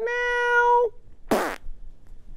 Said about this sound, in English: Was that you farting yourself to sleep?